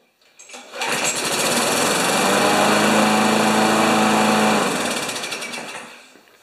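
A Brute lawn mower with a Briggs Classic engine, freshly fitted with a used coil after an intermittent-start fault, catches and runs at a steady, loud, buzzing idle for several seconds before winding down near the end.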